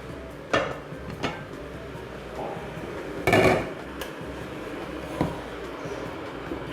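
A wide-bottomed pan is handled in a kitchen before water is boiled for a pork roll, giving a few scattered metallic knocks and clatters against a faint background hiss.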